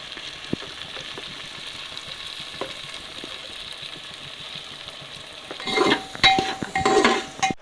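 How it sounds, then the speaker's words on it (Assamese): Peas, carrots and beans sizzle softly in oil over a low flame, a steady close fry with faint crackles, then louder stirring and scraping of a spoon against the pan near the end. "মটৰ গাজৰ আৰু বিন গোটাখিনি দিম দি পেলাই অলপমান 5 মিনিটমান ভাজি ল'ম কম জুইতে"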